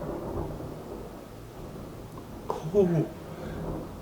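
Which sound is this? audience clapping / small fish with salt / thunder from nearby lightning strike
thunder from nearby lightning strike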